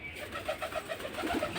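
A Giribaz pigeon nesting on its eggs gives a steady run of soft, rolling coos, repeated in close rhythmic pulses at moderate volume with no talk over them.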